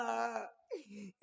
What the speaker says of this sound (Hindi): अचानक हमारे कानों में ये किसकी रोने की आवाज सुनाई दे रही